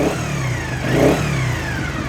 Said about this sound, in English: started it with the engine running